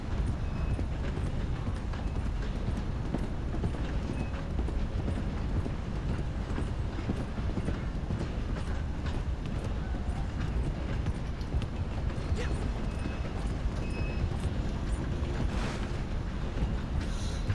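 Horse hooves clip-clop steadily and continuously over a dense mechanical rumble, like a moving train, with the sound staying fairly even in loudness and no clear voices.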